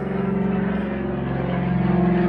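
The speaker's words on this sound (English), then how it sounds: "Ooh, airplane." An airplane drones overhead above a garage, a steady, even engine hum with a faint rising tone that holds for a couple of seconds without talk.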